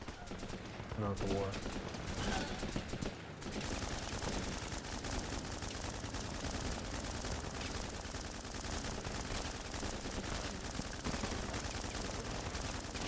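Rapid automatic rifle fire from the war game Running with Rifles, dense and continuous bursts filling the scene at steady loudness, with someone talking over the shooting.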